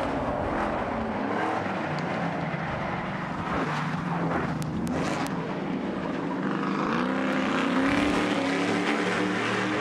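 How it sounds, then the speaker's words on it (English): Race trucks on the Nashville track, running on Continental tires, roar loudly and continuously as they brake hard into a corner, engines and tire noise dense throughout with no voices. "And again, Gavin Harlien hard on the brakes down there"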